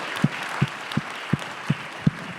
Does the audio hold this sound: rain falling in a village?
no